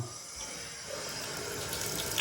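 Water from bathroom sink faucets in a renovated home pours steadily into the basins, a continuous broadband rush heard close and alone, with no talking.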